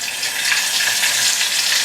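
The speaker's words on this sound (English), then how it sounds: "You see that's frying up really nice." Loud, continuous crackling sizzle of ice cream deep-frying in hot oil, bubbling steadily throughout with no voices.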